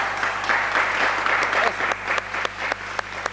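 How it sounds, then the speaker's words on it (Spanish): A studio audience at a Spanish-language program claps warmly, a steady wash of applause with a few sharper individual claps standing out as it tapers, and voices faintly underneath. "Le vamos a pedir un caluroso aplauso de toda nuestra audiencia."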